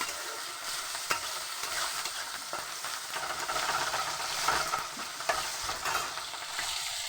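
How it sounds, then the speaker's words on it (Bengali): Tomato, onion and ginger-garlic paste sauté in a pan with a constant close sizzle, broken by occasional scraping stirs and light clinks of a spatula, no voices present. "ভালোভাবে একটু কষিয়ে নেব।"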